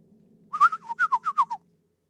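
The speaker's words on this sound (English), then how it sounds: "Bird calls." Bird calls in a swamp: a quick series of about eight clear, whistled chirping notes in a bouncy rhythm, close and distinct over a faint low background hum.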